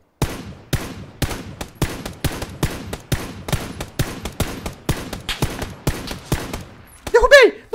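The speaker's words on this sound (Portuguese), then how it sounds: "Nossa, tem tiro atrás!" Rapid bursts of video game gunfire crack out in a steady stream of sharp shots, loud and close, ending with a brief ringing tonal flourish.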